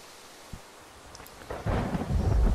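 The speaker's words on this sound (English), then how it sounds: "this thunder is not pleasant" A thunderstorm in the Minecraft video game: steady rain hiss and rustle, then a deep rolling thunder rumble that swells loud and close in the second half, with no voices.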